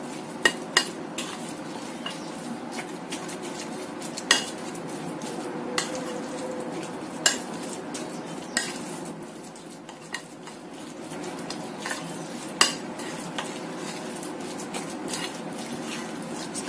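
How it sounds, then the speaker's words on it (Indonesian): Dumpling and siomay filling being stirred in a bowl after an egg is added: soft, steady mixing with a sharp utensil clink against the bowl every few seconds. "Kita tambahkan 1 butir telur. Kita aduk lagi sampai tercampur rata."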